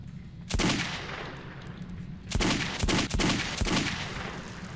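Gunfire in the first-person shooter Metro 2033, several loud close shots and short bursts ringing out over a rumbling game background, with no talking.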